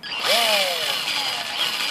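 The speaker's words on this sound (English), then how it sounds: "we're just going to drill this out real quick with the handy-dandy drill" A power drill whirs up to speed and bites into the plastic bottom case of a typewriter, a loud high whine that sags slightly under load before steadying.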